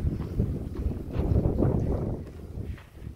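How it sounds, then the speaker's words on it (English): Gusty wind by the IJsselmeer near Medemblik, the Netherlands, buffets the microphone in rumbling waves, loud and close, with no talk. "it was windy, of course"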